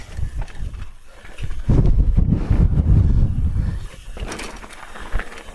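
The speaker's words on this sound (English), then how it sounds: "Windy today." Gusty wind buffeting the microphone in low rumbling bursts, strongest midway, then easing to a softer rustle.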